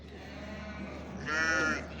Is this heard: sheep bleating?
yes